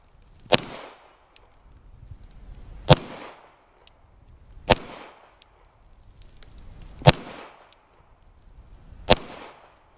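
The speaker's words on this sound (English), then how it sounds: "Seems that I can do it one-handed pretty good, so let's do that again." Five sharp pistol shots fire one-handed at steady intervals of roughly two seconds. Each crack is loud and close, with a brief echoing decay and quiet between shots.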